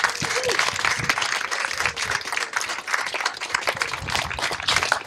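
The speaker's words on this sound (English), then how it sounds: "So let's give them a round of applause." Applause from the audience at a rededication ceremony for the Pawtucket prism, dense clapping sustained throughout, with crowd murmur mixed in.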